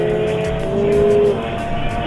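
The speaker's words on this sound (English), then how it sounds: "a motorcycle flies past, and then another, blasting their way into town" A motorcycle speeds past a truck on a road entering a 70 km/h zone, a loud close engine roar with a rising then falling whine as it blasts by.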